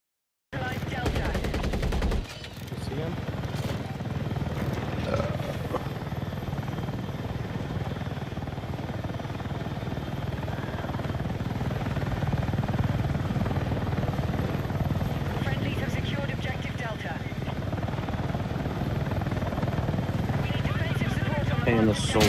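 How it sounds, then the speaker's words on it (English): A helicopter's rotor drones continuously in a multiplayer video game, with bursts of gunfire and people talking over the action. "block the heli spawn real quick."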